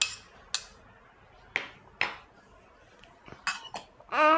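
A spoon clinks sharply against a cooking pot while carrots and cabbage are prepared, about six separate metallic clinks at irregular intervals, close up and with no voices, ending in a longer scraping rattle.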